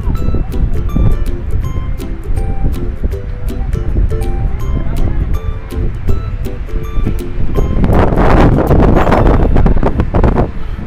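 Strong wind on the hilltop of Bukit Gundaling in Berastagi roars steadily and loudly across the microphone, with heavy buffeting that swells into a stronger gust near the end.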